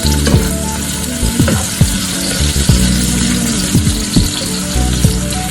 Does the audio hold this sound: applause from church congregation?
no